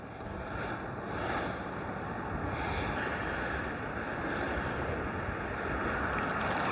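Northeast wind blows steadily over open river water where people are fishing for goldeye, a constant broadband rush and buffet against the microphone with no talk.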